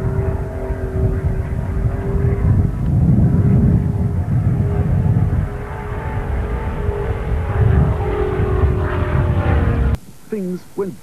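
A Supermarine Spitfire, a WW2 fighter aircraft, drones with a loud, steady engine roar over about ten seconds, then cuts abruptly to a quieter stretch with faint wavering tones.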